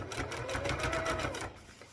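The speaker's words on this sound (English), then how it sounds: "I went all the way around the edge and top stitched it to hold the fabric layers into place" Sewing machine top stitching around the edges of layered fabric, including crinkly waterproof material, with a fast steady mechanical rattle up close that runs for about a second and a half before slowing and stopping.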